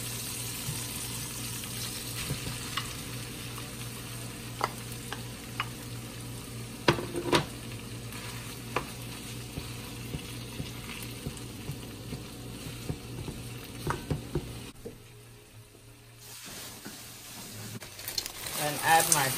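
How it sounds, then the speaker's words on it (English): Corned beef fries in a pan for a budget Christmas lunch, giving a soft, steady sizzle with scattered clinks and scrapes of stirring over a low background hum. The sound briefly drops away near the end before picking up again. "I'm gonna go ahead and add my corned beef to it."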